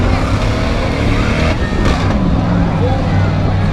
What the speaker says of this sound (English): It's a Saturn from Mike, driven by Mike McNeil out of Traverse City